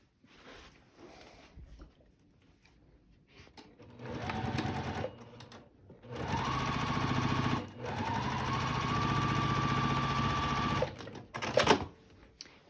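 A sewing machine stitches a straight seam across fabric scraps in short bursts, a close, steady mechanical whirring that starts, pauses briefly, then runs for several seconds before stopping, with light handling noise around it.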